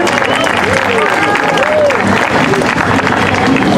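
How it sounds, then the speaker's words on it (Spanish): An audience at a Cow Parade México 2024 event on Paseo de la Reforma claps steadily and densely for the full stretch, with crowd voices and a few whistles mixed into the applause. "Un aplauso, por favor."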